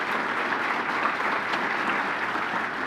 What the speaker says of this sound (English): A round of applause for our event sponsors tonight.